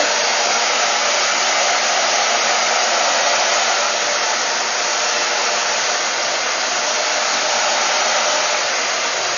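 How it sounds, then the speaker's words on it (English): A handheld blow dryer runs continuously at close range on someone's own hair during a home blow-dry, a steady loud broadband whoosh with no pauses and no voices. "take your blow dryer and dry all over"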